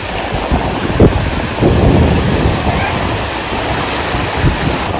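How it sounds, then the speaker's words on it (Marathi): Loud, rushing roar of surf with a heavy wave breaking at Ganpatipule beach, Ratnagiri, buffeted by strong wind noise against the microphone. "आता खूप मोठी लाट येत आहे"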